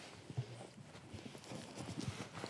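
Horse hooves clip-clop, a few scattered faint knocks against a quiet background.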